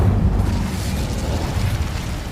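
A fire spell goes off in the Hogwarts Legacy video game, a loud, dense whooshing burst that roars steadily for a couple of seconds with no pause.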